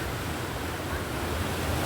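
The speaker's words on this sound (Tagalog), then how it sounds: "Tignan mo yung doon ang alon." Ocean waves surging and breaking outdoors, a steady broadband roar of surf with some wind rushing across the microphone, continuous and fairly loud with no talking.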